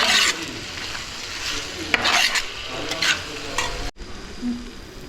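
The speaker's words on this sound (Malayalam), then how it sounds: "ഇതിലേക്ക് നമുക്ക് ചതച്ച് വെച്ചിരിക്കുന്ന ഇഞ്ചി വെളുത്തുള്ളിയും കൂടെ ചേർത്ത് കൊടുക്കാം ഇതെല്ലാം ഒന്ന് നന്നായി ഇളക്കി കൊടുക്കാം" Crushed ginger and garlic fry with shallots in a pan for a country-style chicken curry, stirred with a spoon. A steady close sizzle runs throughout, with scraping strokes and a brief dip near the end.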